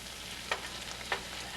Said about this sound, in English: we're going to start adding the beef bouillon